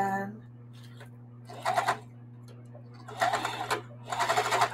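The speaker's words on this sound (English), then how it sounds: "because I'm going to sew the pocket on next" A sewing machine stitches a pocket onto a spring tote bag in short bursts, running briefly, pausing, then running twice more over a steady low electrical hum, near and clear.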